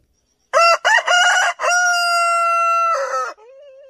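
A rooster crows loudly and close by: a long, harmonic cock-a-doodle-doo made of a few short opening bursts and then a sustained call that trails off. No one speaks over it.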